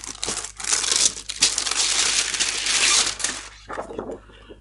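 Crinkly rustling of a film development bag, sustained and fairly loud with brief pauses and a few sharper crumpling bursts, handled close up.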